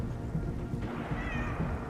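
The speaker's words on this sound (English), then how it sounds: "Did I hear a cat?" One faint, wavering cat meow sounds in the game 11-11: Memories Retold, rising briefly over a rumbling ambient background, with no voices.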